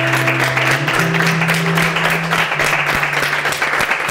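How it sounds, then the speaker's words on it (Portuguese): Studio applause for a contestant eliminated in a sandwich-making cooking competition, loud continuous clapping from a small group with some background tones underneath. "Uma salva de palmas para a Carol, por favor."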